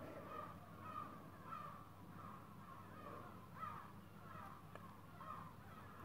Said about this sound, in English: I'm not sure if you can hear the seagulls in the videos or not, but they're so loud.